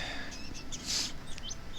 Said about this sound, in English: But I hear the birds chirping